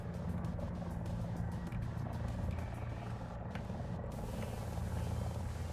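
A helicopter in the War Thunder combat game drones steadily, a continuous rotor and engine hum with faint higher chatter throughout, moderately distant and without speech.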